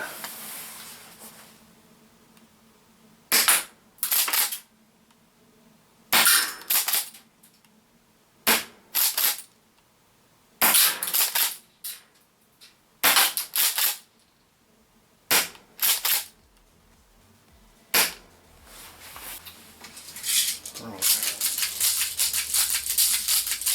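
A Secutor Arms Invicta green gas airsoft shotgun fires a series of loud, sharp cracking shots, some single and some in quick pairs, separated by quiet pauses, with a faint hiss and rattle toward the end.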